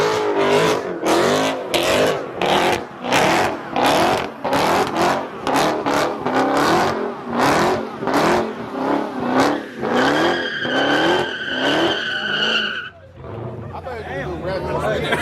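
A Porsche engine revs in a rapid series of loud pulses at an underground car meet in Michigan, followed by a drawn-out high-pitched squeal and a softer tail.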